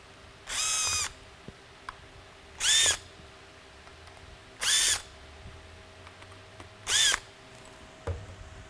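A power screwdriver backs out the small epoxy-coated Phillips mounting screws of a Whelen M4 linear lighthead, giving four short, evenly spaced whirring bursts with quiet pauses between them and no talking.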